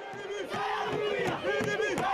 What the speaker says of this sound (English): Boisterous crowds packed the streets, some climbing lampposts and walls